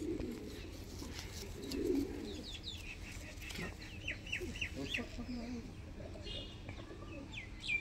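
Kasuri Kalsira pigeons coo softly in low, rolling bursts close by, while a person talks and faint chirps and background chatter come and go.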